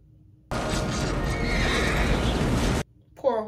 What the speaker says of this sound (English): Poor horses.